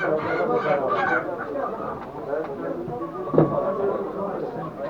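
Roosters crow and squawk amid a busy background of people talking at a poultry auction in Ankara, with one louder call rising briefly partway through.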